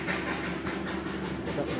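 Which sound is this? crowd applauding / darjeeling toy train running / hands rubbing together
darjeeling toy train running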